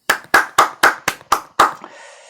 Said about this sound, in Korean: 하나님께 영광의 박수 올리겠습니다.